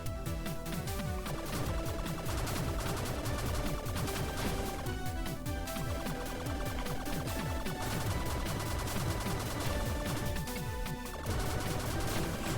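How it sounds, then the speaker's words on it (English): Machine gun auto fire in the Blaster Master Zero video game, a steady stream of rapid chiptune-style shots layered over game music, continuous throughout. "The machine gun becomes less accurate the longer you fire it."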